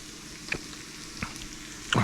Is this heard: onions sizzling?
yes